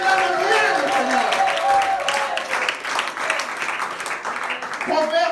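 A church congregation applauds and cheers the Lord during a French-language service, with dense clapping that builds and holds under a preacher's voice speaking over it.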